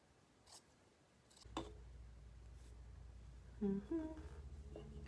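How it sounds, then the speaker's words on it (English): Scissors cutting coordinating fabric into small strips for an upcycled rusty bike planter: a brief pair of close snips near the end of an otherwise quiet room, with no speech. "I think I'm gonna cut 2 little strips each of the coordinating fabric."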